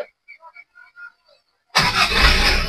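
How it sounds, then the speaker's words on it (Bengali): A Foton 1-ton pickup's engine cranks and catches after a few quiet clicks, then settles into a steady, fairly loud idle close by. "এই যে আমি স্টার্ট দিচ্ছি ভাইয়া"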